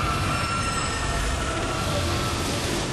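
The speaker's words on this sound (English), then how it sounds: "I think you dodge the train one more time over here" A train rushes past in the video game DmC Devil May Cry, a loud, steady rumble of rolling rail cars with squealing wheels filling the whole moment.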